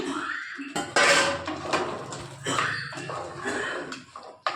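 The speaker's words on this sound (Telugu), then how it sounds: "ఇప్పుడు నేను ఈ పాయ వేసేస్తాను దాంట్లో." Goat trotters (paya) are dropped into a cooking pot of tomato-based curry with clattering metal knocks and scrapes, close and moderately loud, in a few uneven bursts.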